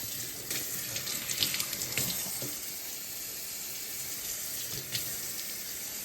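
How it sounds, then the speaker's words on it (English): Water splashes and patters from a running tap over seasoned green tomatoes at a kitchen sink, steady and continuous, with a few brief droplet clicks and no speech. "So I'm just sprinkling that water on there"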